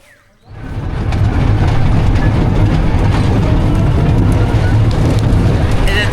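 Amusement park ride train at Aladins Park in Mymensingh running steadily, a loud continuous rumble with clattering and wind noise close by from start to finish.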